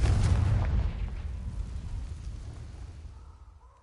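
A Confringo blasting curse explodes in Hogwarts Legacy. A loud, deep boom comes first, then a long rumble slowly fades to near silence over a few seconds.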